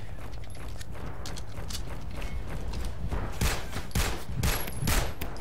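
Sniper gunfire in the shooter game Nuclear Dawn: several sharp, cracking shots land in the latter half, a couple close together, over a steady clattering battlefield ambience with no talk.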